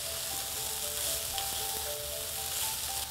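Broccoli stir fry sizzles steadily in a pan for a few seconds, a close, even frying hiss with faint scraping from stirring.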